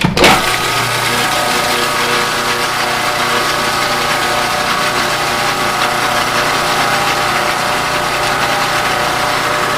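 A kitchen blender mixing eggs at speed for a salad dressing, with corn oil to be added slowly; a loud, steady motor whir and rattle starts abruptly and runs continuously throughout.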